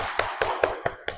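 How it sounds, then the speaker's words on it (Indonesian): A class in a classroom claps together in a quick, even rhythm, five sharp, fairly close bursts in just over a second, with no voices. "tepuk tangan dulu dong buat kita semua"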